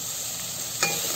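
Onions browning in a pan, frying with a steady sizzle and a quick scrape of stirring near the end, close and brief, for a chicken curry.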